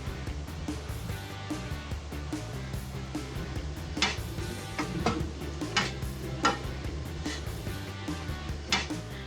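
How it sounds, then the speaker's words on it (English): Beef frying in a pan with flour sprinkled over it and stirred in, a soft steady sizzle under repeated scraping and clinking of a utensil against the pan, fairly quiet and close. "we're gonna sprinkle flour onto the beef, and then we're gonna let it cook for about a minute"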